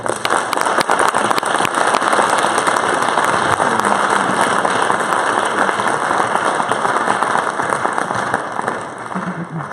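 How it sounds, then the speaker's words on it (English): An audience at a Provo mayoral and council debate in the Provo High School auditorium applauds the council candidates, a dense, steady round of clapping that fills the room for about nine seconds before tapering off. "could we give the council candidates a round of applause?"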